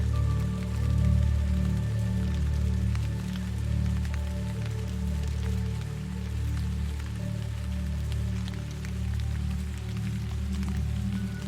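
Steady rain falls under a low, gently pulsing drone in a guided meditation for anxiety relief, soft and continuous with no voice.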